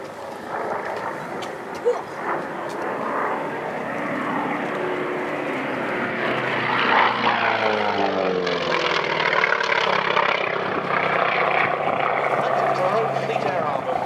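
A Grumman FM-2 Wildcat propeller fighter, built by General Motors' Eastern Aircraft Division, flies past at a Duxford airshow. Its steady, rising engine drone swells and shifts in pitch as it passes, with faint talk underneath.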